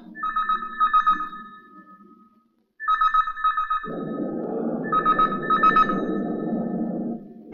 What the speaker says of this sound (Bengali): দেখো তো কার ফোন এলো।